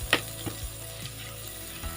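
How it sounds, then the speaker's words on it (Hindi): Garlic ginger paste fries in a pan over medium-low heat, giving a soft, steady sizzle with a few light clinks and stirring knocks. "अब हम इसमें लहसुन अदरक का पेस्ट ऐड करेंगे। आंच आपने मीडियम टू लो रखनी है। चंद सेकंड इसे फ्राई करना है।"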